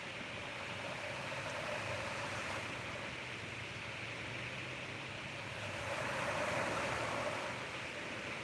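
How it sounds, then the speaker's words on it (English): Ocean waves breaking on a beach at sunrise, a steady broadband wash of surf that swells slightly louder near the end, continuous and moderately distant with no voices. "The waves sound so good today, don't they?"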